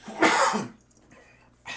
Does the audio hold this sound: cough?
yes